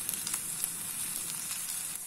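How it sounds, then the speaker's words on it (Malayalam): Sago (sabudana) vadas shallow-fry in a small amount of oil with a soft, steady sizzle and faint crackle. The sound is quiet and close, with no talking. "നമ്മളുടെ സാബുദാന ഡീപ് ഫ്രൈ അല്ല, ഷാലോ ഫ്രൈ എന്ന് പോലും പറയാൻ മതി."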